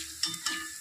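Garlic frying in oil, a brief soft sizzle with two small stirring scrapes, close and quiet.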